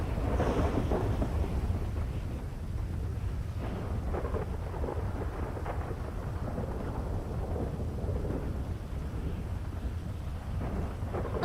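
Heavy rain from a FiveM game thunderstorm streams without pause beneath a constant low thunder rumble, loud and close, with no talking.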